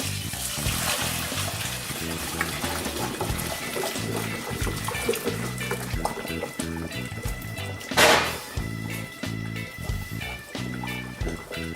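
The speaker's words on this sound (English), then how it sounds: "We're going to stir it all up." Strike water being stirred into a grain mash for an all-grain pumpkin ale, a wet sloshing and churning with rhythmic knocks and scrapes, loud and close, with a brief splash near the end.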